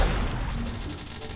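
Shotgun fire in the Call of Duty Mobile video game, a loud, rough blast followed by a dense, rumbling tail, heard alone without talk.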